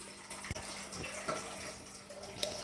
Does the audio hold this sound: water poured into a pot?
yes